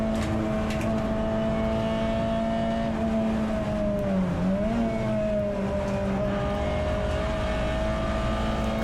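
Onboard engine of a Peugeot 206 GTi 180 race car at Donington Park in a CSCC Tin Tops race, droning loud and steady, with a brief dip and rise in pitch midway as the car changes speed.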